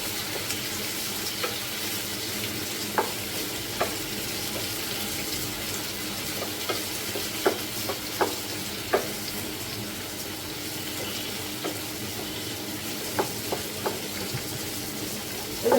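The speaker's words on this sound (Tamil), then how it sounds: "அந்த வெங்காய தக்காளியோட பச்சை வாடை போகிற வரைக்கும் நல்லா வதக்கிக்கோங்க" Shallots, ginger, garlic, tomato and dried chillies sauté in a pan for egg kulambu, a steady close sizzle broken by occasional light clicks of stirring, with no talking.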